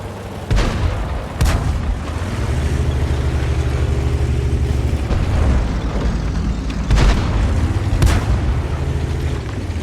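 Tank cannon fire in a tank video game: four loud, sharp booms, two near the start and two later, each cutting through a steady, droning engine rumble that runs throughout.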